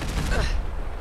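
Gunfire in Fallout 4, played with a horror mod, cracks in a short burst near the start and fades quickly while someone talks over it.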